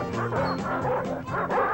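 Several Doberman dogs bark and yip in quick, overlapping bursts, loud and close, with whimpering tones mixed between the barks.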